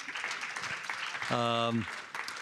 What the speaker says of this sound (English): I'd like you to give a round of applause to our panelists